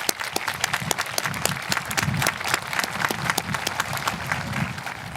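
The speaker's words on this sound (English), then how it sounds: "let's give a round of applause to all of those achievements thus far" A graduation audience at Blue Ridge Academy's high school ceremony, held at Azusa Pacific, gives a sustained round of applause, many hands clapping in a steady, moderately loud crackle across the whole stretch.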